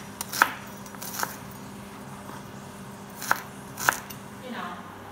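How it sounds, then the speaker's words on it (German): A knife chops an onion into coarse pieces on a board, giving four sharp, well-spaced cuts against a quiet kitchen background. "Die Zwiebel einfach in grobe Stücke schneiden."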